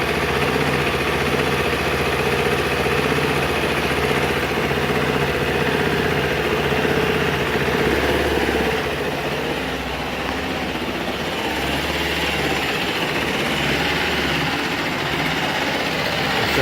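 A wood gas powered engine idles steadily while warming up, a continuous low rumbling drone with even mechanical vibration, close and loud throughout, no driving or load.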